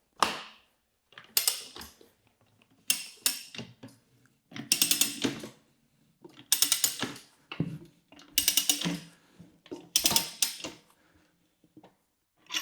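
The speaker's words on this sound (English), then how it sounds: "Bring the ratchet system in front of you and start ratcheting." A street bike tire changer's ratchet system clicks rapidly in repeated bursts of about a second each, separated by short pauses, loud and close with a sharp mechanical rattle.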